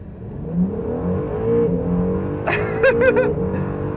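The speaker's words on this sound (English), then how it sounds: "I keep my left foot on the brake, floor the throttle, release the brake" A Honda NSX launches at full throttle from a standstill, its engine roaring steadily and climbing through the revs, with sharp rising bursts partway through as it pulls hard up the gears.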